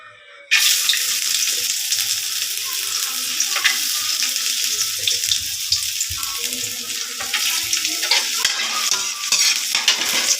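Ginger drops into a hot pan with an abrupt loud sizzle after a quiet moment, then keeps frying steadily with scraping stirs and crackles, close and without talk.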